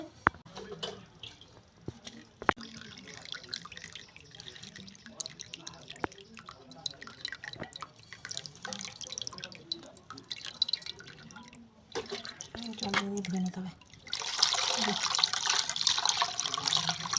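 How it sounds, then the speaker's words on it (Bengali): Water runs and drips over freshly strained chhana, the paneer curds held in a mesh cloth, with faint splashing that builds into a steady, louder pour near the end. "জল দিয়ে আমরা ভালোভাবে ধুয়ে নিচ্ছি"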